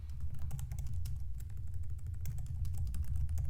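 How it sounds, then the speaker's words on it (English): Rapid, steady typing on a computer keyboard, dense overlapping key clicks close up with a low background hum, no talking. "So let's type it out."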